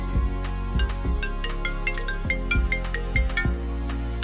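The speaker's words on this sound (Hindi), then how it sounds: "तभी उस रूम में ही फोन के बजने की आवाज़ आने लगती है।" A phone ringtone rings in a room, a repeating melodic electronic tune with steady rhythmic notes over a low beat, loud and close, with no talking.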